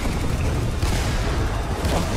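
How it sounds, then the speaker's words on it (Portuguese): A grenade goes off in Free Fire, sending out a loud, booming blast with a rumbling, rolling decay that lasts a couple of seconds. "Ó, só uma granada, mano, ele tá cercadaço ali."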